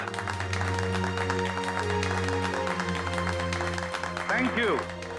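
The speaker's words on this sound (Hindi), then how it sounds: "तो कीजिए जोरदार तालियों से इनका स्वागत" An audience claps to welcome CID officers at an anti-drug event, a dense, steady patter of applause throughout, with a voice briefly rising over it near the end.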